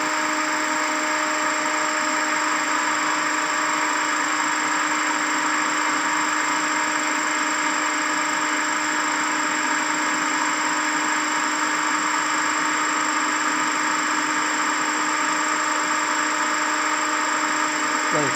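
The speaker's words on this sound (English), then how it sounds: "Adjust the speed of the DC motor with the help of field rheostat till it reaches to rated speed, that is 1500" A DC motor running steadily at its rated 1500 RPM, set with a field rheostat, gives a continuous loud hum with a strong, steady whine and broadband whirr that stays even throughout, with no voices.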